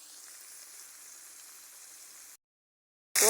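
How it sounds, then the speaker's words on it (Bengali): Pointed gourd and jackfruit seeds sauté in a pan, a soft steady sizzle and crackle for about two seconds before cutting to silence, then a sudden louder burst at the end. "পটল আর কাঁঠালের বিচিগুলো ভালোভাবে আমি কষিয়ে নেব"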